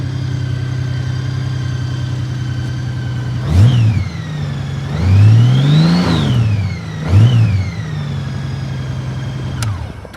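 A 2014 Honda Gold Wing trike engine idles smoothly and close, then is revved three times, the middle rev longer and higher, before settling back to a steady idle.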